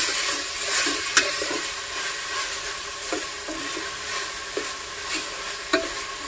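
Ginger being stirred into a frying pulao mixture, a loud continuous sizzle with repeated soft scrapes and taps of the spoon in the pan.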